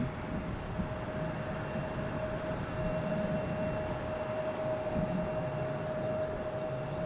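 An American Airlines jet arrives at Raleigh-Durham International Airport, a steady distant engine roar with a faint whining tone, sustained at even loudness throughout.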